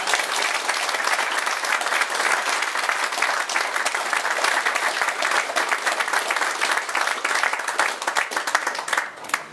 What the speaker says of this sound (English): we would all like to give her a super vote of thanks by way of clapping.